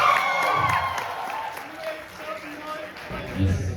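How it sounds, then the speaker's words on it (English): An audience claps and cheers at a comedy show, a dense rattle of applause with scattered whoops, fading slightly midway and swelling again near the end, with voices mixed in. "everyone please clap for this guy"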